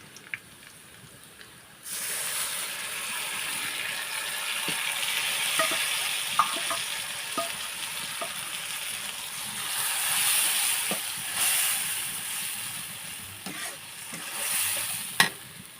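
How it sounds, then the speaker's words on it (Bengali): Beef with turmeric, dried chili powder and salt sizzles steadily in a pan after water is added, with frequent scraping stir strokes and occasional sharp clinks over a continuous frying hiss, close by and with no talking. "এটা আমি 2-3 মিনিটের মতন ভালো করে কষে নেব।"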